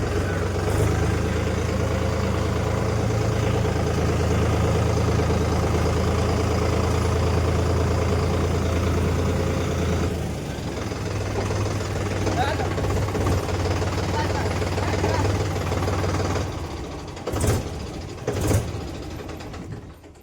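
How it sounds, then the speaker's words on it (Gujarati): A tractor engine runs with a steady, heavy low drone close by. Partway through its tone shifts and settles lower, then a few louder bursts come near the end. "ટ્રેક્ટર બેક્ટર ચાલુ કરી લીધું"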